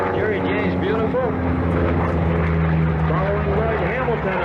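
A propeller-driven racing plane at the 1990 Reno Air Races rolls down the runway for takeoff, its engine droning loudly with wavering pitch sweeps, while voices talk over it.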